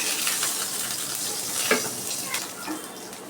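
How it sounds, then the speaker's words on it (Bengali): Eggs fry in hot oil, a continuous close crackling sizzle with a few sharper spits and pops scattered through, and no voices. "তেল গরম হয়ে গেছে আমি ডিমগুলো দিয়ে দিচ্ছি"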